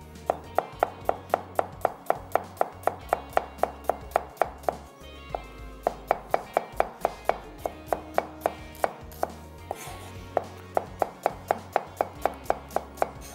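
A knife chops rapidly and steadily through onion on a cutting board, finely slicing it in dozens of sharp, evenly spaced close taps that run throughout with only a brief pause.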